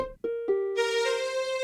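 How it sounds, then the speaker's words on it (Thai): A Casio LK-90 budget keyboard playing its cello strings voice: a few short, separate notes, then one sustained bowed-string tone with rich harmonics that holds steady to the end, close and clear with no talking. "อันนี้สตริงนะครับเชลโล่"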